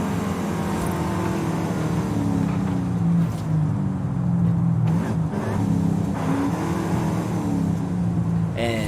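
A 2014 Volkswagen Golf R driving and slowing down, with a steady engine drone and tire roar that stays loud and close throughout, dipping briefly near the end.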